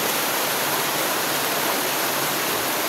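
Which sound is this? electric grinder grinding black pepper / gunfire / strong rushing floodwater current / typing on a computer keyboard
strong rushing floodwater current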